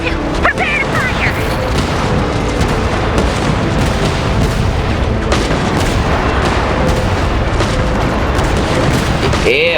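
Continuous heavy shooting booms in Genshin Impact fill the scene, a dense, loud, unbroken barrage of blasts and impacts.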